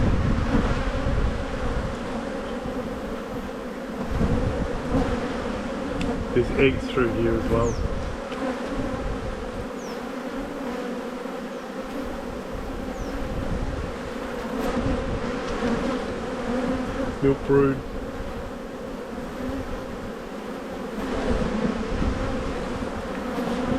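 Dense swarm of honey bees humming steadily around an open, crowded hive with frames of brood, a continuous close buzz with a person talking quietly over it.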